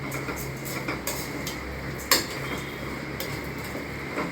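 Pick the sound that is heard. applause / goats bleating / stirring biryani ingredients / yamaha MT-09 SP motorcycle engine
stirring biryani ingredients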